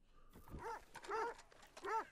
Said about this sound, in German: Die Hunde beißen mich.